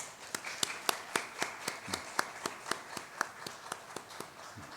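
A church congregation claps for a missionary at a Sunday morning service, with evenly spaced, rhythmic claps in unison heard at moderate distance against a faint room background.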